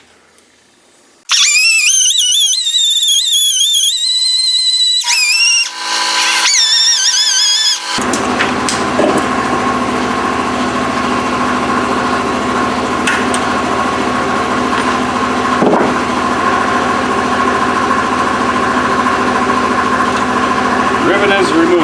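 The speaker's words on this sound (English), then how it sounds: "grind the head of the rivet that holds the handle in" An angle grinder runs loud and close as it grinds the rivet head off a shovel handle, starting with a high rising whine that then settles into a steady, sustained grinding drone with occasional scrapes.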